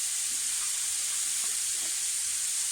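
Chopped onion sizzles steadily in one to two tablespoons of hot oil in a pan, a continuous close frying hiss with no voices.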